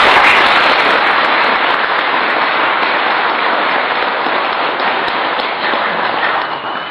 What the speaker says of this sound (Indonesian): Tepuk tangan ke ayah dan guru.